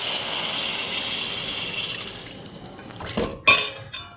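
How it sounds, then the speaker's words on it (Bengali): Water is added to a cooking pan for a cauliflower and sol fish curry. A loud hiss of hot liquid fades away and is followed by a few clinks and scrapes of a utensil against the pan, close and with no voices. "আমি জল দিয়ে দিচ্ছি।"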